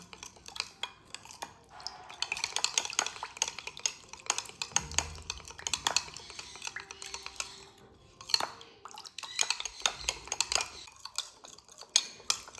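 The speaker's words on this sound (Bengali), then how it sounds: "এবার সব কিছু খুব ভালোভাবে মিশিয়ে নেব।" A spoon clinks and scrapes in a bowl as homemade soap ingredients are stirred together, giving quiet, irregular taps and swishes at close range.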